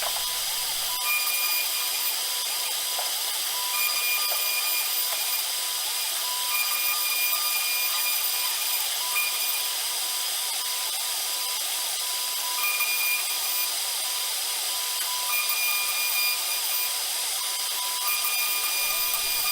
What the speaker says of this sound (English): Now we'll cut the pockets out for the pegs to sit in after you're done playing the game.